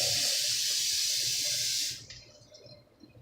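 Water gushes steadily from a tap with a bright, hissing rush, then shuts off abruptly, leaving a faint quiet room.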